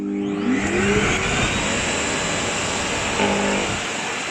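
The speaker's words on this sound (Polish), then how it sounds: "I teraz będę po prostu zbierała tą wodę, która została na naszym balkonie i znowu włączamy. Odkurzacz." A Thomas Aqua Plus wet vacuum cleaner motor whirs loudly and steadily, its pitch rising as it spins up at the start, sucking up water on a balcony, with a brief change in tone near the end.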